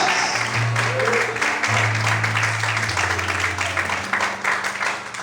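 Church congregation applauding during a Portuguese-language sermon, a dense steady patter of clapping under an organ or keyboard chord and a preacher's voice.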